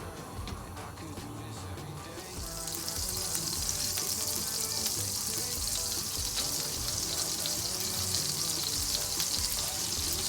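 Butter and olive oil heat in a hot pan on a gas flame, starting as quiet crackle and swelling after a couple of seconds into a steady, bright close sizzle that continues alone.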